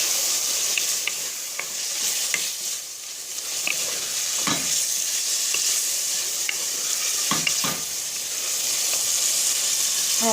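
Tomato pulp frying in a pan for a gratin sauce, giving a steady hiss with scattered soft scrapes of a ladle. The sizzle sounds close and even and continues without talk.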